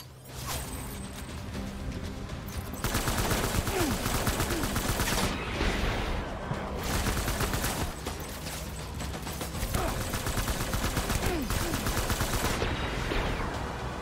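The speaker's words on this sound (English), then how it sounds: "use up the assault rifle" Continuous assault rifle fire in Death Stranding, loud and sustained, with rapid shots and mechanical clanks running throughout.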